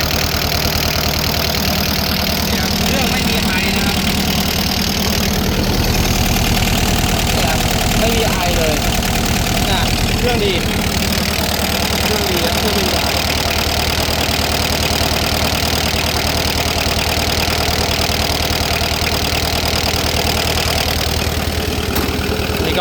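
A Kubota L2600 26-horsepower four-cylinder small tractor diesel engine idles unrevved with a steady low chugging throughout, loud and close, with a voice talking over it now and then.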